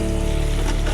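Washed potatoes sizzle and fry loudly in a hot pan, a steady, dense crackle that fills the whole moment without pause.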